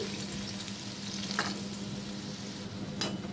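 Indian gooseberries (amla) fry steadily in a pan of hot oil, giving a continuous soft sizzle with a couple of brief stirring scrapes, fairly close and alone with no talk.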